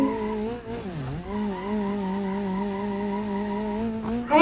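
A car in the BeamNG Drive video game skids and spins with a loud, sustained tire squeal whose pitch dips and wavers as it slides, over a steady engine drone.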